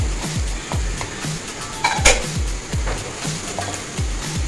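Carrots frying in a pan and being stirred, with steady sizzle and repeated scraping, clanking strokes of a utensil against the metal, close and fairly loud.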